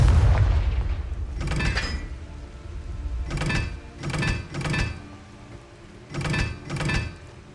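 Spell blasts from the Confringo fire spell in the Hogwarts Legacy video game, five or six sharp booming bursts in uneven pairs over a low rumbling background, close and fairly loud with no talking.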